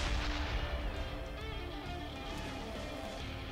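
A Type 64 tank's gun fires in a video game: a single heavy boom right at the start, then a rumbling decay that fades under steady background noise.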